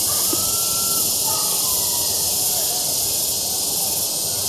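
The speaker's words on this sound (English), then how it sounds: "There's supposed to be a river down there. I can't see it, but you do hear some water" Steady broadband rushing of a jungle river far below a resort in Ubud, Bali, a continuous hiss-like wash of flowing water with faint distant calls drifting over it.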